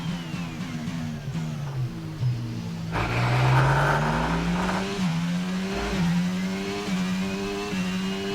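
An F1 race car engine in the F1 22 game at the Canadian Grand Prix screams at high revs, its pitch climbing through gear shifts with a brief downshift, loud and steady from the cockpit view.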